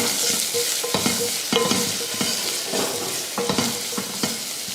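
Dried chilies, curry leaves, asafoetida, turmeric and crushed rasam spices sautéed in a pan, a steady sizzle broken by repeated close scraping and stirring strokes in an uneven rhythm.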